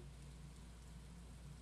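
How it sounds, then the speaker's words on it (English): Steady rain falling on a lake in the Stardew Valley video game, a soft continuous hiss with a low hum beneath it, faint and unbroken. "watching the curtains of rain whisper above a silent lake"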